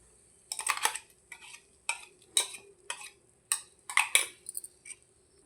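A spoon stirs mango paste into kesari bath in a pan, making a series of irregular scraping and clinking strokes against the metal, close and distinct with quiet gaps between them.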